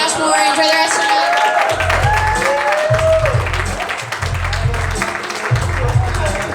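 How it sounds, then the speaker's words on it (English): A comedy club audience applauds after a stand-up set, loud dense clapping and crowd noise, while music with a thumping beat plays over it and carries on throughout. "Give it a round of applause."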